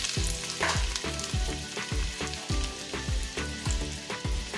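About six or seven garlic cloves frying in a pan with green chillies give a steady, close sizzle, with rhythmic clatter as the pan is stirred about every half second. No voices.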